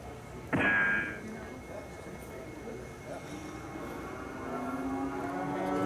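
At a cutting horse competition, a cow gives one loud, drawn-out moo in the arena, with a crowd murmur and a commentator talking underneath.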